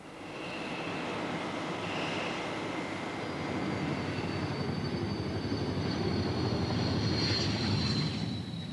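Hawker Hunter swept-wing jet during spin testing at Boscombe Down, heard as a steady, distant engine roar and rushing air with a faint high whine, even and unbroken throughout.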